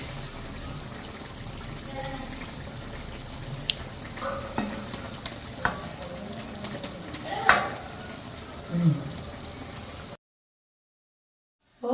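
Curry leaves hitting a pan of simmering fish curry, giving a low steady sizzle with a few soft pops and stirring clatters, fading out near the end.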